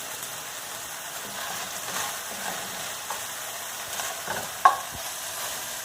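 Onions for beef stroganoff fry in a pan, a faint steady sizzle with soft scraping stirs scattered through and one sharper clink of the utensil near the end.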